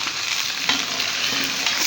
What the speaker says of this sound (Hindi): अपना जो चिकन है ना इसको अच्छे से फ्राई करते हैं